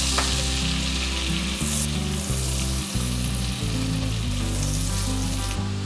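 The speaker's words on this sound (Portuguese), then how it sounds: "A cebola começou a refogar" Grated onion sautés in butter and olive oil as a risotto base, giving a steady, loud, close sizzle with a faint stir or two and music playing underneath.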